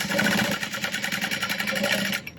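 A sewing machine stitches a carry-all bag, a fast, even mechanical whirr with a rapid needle rhythm running steadily for about two seconds before stopping.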